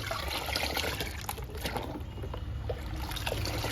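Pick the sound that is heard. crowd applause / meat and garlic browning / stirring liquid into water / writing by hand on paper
stirring liquid into water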